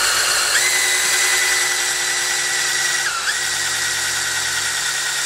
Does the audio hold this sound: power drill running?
yes